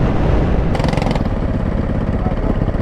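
A small two-stroke go-kart engine buzzes loud and close at high revs, a harsh continuous drone with a pulsing, raspy texture.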